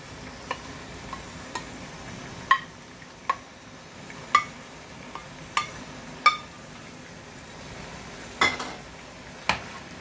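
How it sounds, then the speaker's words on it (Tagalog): Squid stirred in a pan over faint frying sizzle, with about a dozen sharp spatula taps and scrapes against the metal at an uneven pace, close up. "At pwede na nating ihalo yung pusit"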